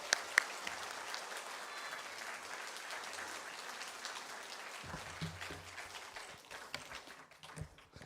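An indoor church audience claps warmly and steadily to welcome a speaker, dense applause lasting several seconds before tapering off with a few scattered claps and faint murmurs.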